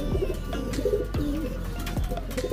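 Racing pigeons coo in soft, repeated low rounded calls, several birds close by layering their throaty coos over steady faint background noise, no talking.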